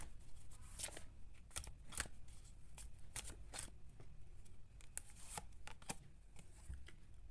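Tarot cards being shuffled by hand: a quiet, continuous run of crisp slaps and riffles, with sharp card snaps recurring at irregular moments over a faint background and no talking.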